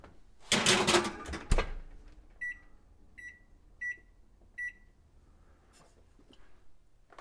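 Kitchen timer set for baking chocolate chip cookies gives four short, evenly spaced beeps after a burst of handling and clattering noise, close and clear in a quiet room.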